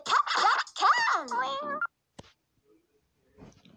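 A cartoon cat meows in a few rising and falling wailing cries, loud and close, then trails off into near silence with a brief click and faint rustle.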